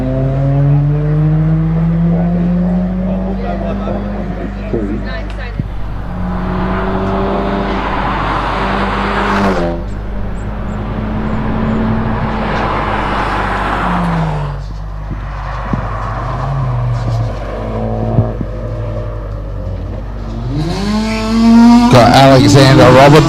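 Ford Fiesta hillclimb race car driving loudly toward the finish line, engine note rising and falling through gear changes, with a sharp surge near the end and a commentator talking over it.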